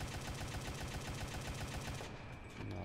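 Rapid automatic gunfire from an SD.Kfz.234/4 armored car in War Thunder ground battles, a loud dense continuous burst of shots that cuts off near the end, leaving a lower rumble.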